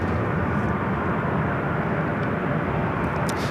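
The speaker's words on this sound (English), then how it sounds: "Another 757 heading over to 24 left." A Boeing 757 airliner taxiing toward runway 24 left at Los Angeles airport, giving a dense, continuous low engine rumble and whine that stays loud and even for the whole clip, with no speech.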